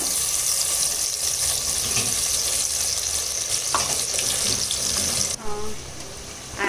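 Masala paste with onions hisses and sizzles continuously in a hot pan, a steady loud crackle with occasional stirring noises, shifting near the end as something is added.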